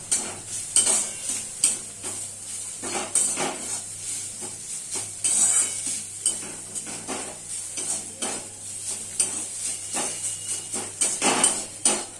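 Spiced bitter gourd (karela) with turmeric, coriander and cumin powder stirred in a pan, a spatula scraping and clacking against the metal in an irregular rhythm over a low sizzle, close and moderately loud with no talking.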